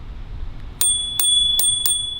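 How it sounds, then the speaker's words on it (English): Four quick bright dings of a small handlebar bell on a Bird electric scooter, close and clear, with a high ring lingering after each strike. "then you have a little bell right here."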